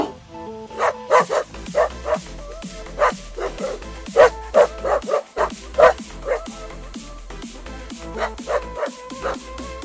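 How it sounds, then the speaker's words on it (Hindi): Cartoon dogs, a mother and her pups, bark repeatedly to drive off thieves from farm fields at night, a rapid series of close, loud yips and barks over a musical backing. "जैसे ही रात में कोई चोर खेतों में आता, रानी और उसके बच्चे चोरों को भौंक भौंक कर भगा देते।"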